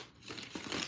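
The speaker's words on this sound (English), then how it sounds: "I'm shuffling these cards." A deck of cards being shuffled close up, with quiet papery riffling and crinkling bursts that grow busier toward the end, no voices.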